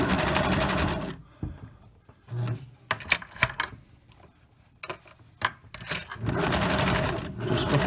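A sewing machine stitches down the side of a pleated surgical mask in loud, close bursts of rapid mechanical chatter, stopping and starting with quieter handling gaps between runs.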